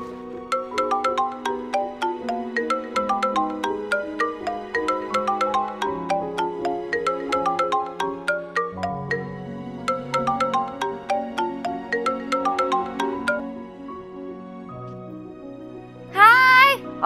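A phone ringtone plays a bright repeating electronic melody for a call, loud and steady for about thirteen seconds before cutting off, followed by a short rising tone.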